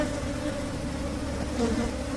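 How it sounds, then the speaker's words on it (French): Honeybees buzz in an open hive of a small, developing colony, making a dense, continuous hum that stays close and steady with no voices. "tu vois le mouvement des abeilles souvent"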